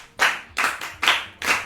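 Children clap their hands together in four quick bursts, each a short flurry of claps with brief pauses between, close and moderately loud.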